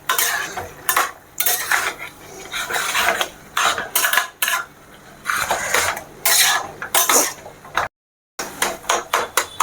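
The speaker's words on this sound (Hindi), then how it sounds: "बीच बीच में इस तरह से हम चूर करेंगे" A spoon mashing chickpeas in a pan while they roast, giving repeated clattering scrapes and knocks of metal on metal in irregular bursts with a brief silent gap near the end.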